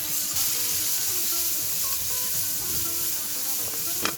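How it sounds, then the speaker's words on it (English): Sliced onion and green chilies sizzle in hot oil with popping seeds for a fish curry, making a steady close frying hiss with a faint clink near the end. "So once they start popping like that, we can insert our sliced onion and green chilies."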